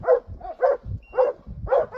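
A dog barks repeatedly in a steady rhythm, about four loud, close barks with lower grunting or snorting sounds between them.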